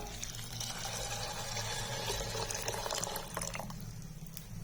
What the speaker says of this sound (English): add required amount of water.